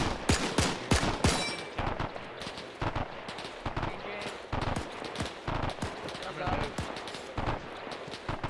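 Gunfire in the Arma 3 WW2 military simulation, sharp rifle and machine-gun shots in irregular bursts, some loud and close, others more distant, with players talking over it.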